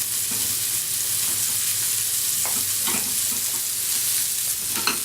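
A spoon stirs cheese into a pan of sizzling pancetta with the flame switched off, the frying hiss constant underneath and a few soft scrapes from the spoon, close and with no talking.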